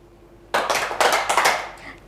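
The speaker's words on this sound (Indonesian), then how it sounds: "Tepuk tiga kali." Children in a classroom clap together in a short, rhythmic burst after a quiet pause, several quick close claps ringing out briefly before fading.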